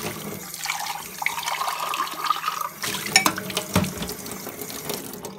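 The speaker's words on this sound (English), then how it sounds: "Rinse my cup." Tap water runs and splashes into a cup being rinsed at a sink, a steady soft trickle with a few clinks and louder splashes near the end.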